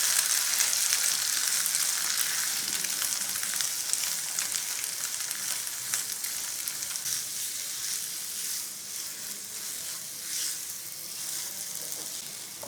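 Semolina fries in ghee for suji halwa, giving a steady, close crackling sizzle that fades slightly over time, with faint stirring scrapes and no voices.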